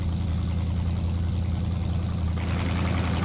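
Heard from the onboard camera in the video game Mudrunner, a truck engine drones loudly and steadily, a thick low rumble that brightens into a rougher, noisier roar near the end.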